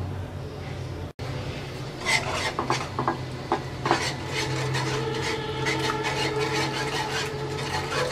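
A palm kheer mixture with sugar is stirred in a pot, making a steady rasping scrape of spoon on metal with repeated scrapes and clinks that carry on throughout at close range.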